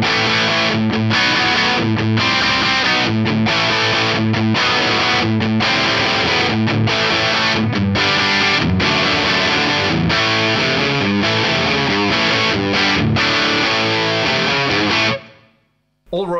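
Loud, sustained high-gain distorted electric guitar playing chugging riffs with sharp rhythmic stops, ending abruptly in silence.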